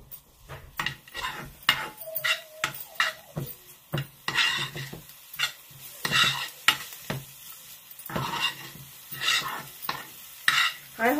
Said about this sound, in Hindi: सो मिक्स करते.